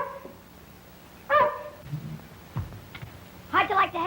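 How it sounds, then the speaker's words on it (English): A puppy gives a few short yips and barks amid men's conversation in a 1934 jungle serial scene, the dog sounds brief and mid-distance between lines of dialogue. "You better get that pup out of here, Sonny"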